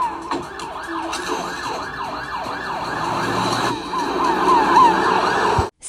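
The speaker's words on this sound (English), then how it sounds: "When the paramedics put Cassie into the ambulance, they drove off to the hospital" A wailing ambulance siren cycles up and down repeatedly as it drives off, fairly loud and close, over traffic noise, ending with an abrupt cut.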